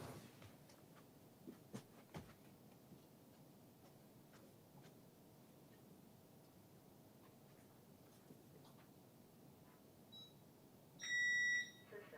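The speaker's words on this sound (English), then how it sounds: "My alarm system is being annoying lately." A home alarm system gives one short, tonal electronic beep near the end, faint against a quiet room with scattered small clicks.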